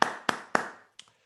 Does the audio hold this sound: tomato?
no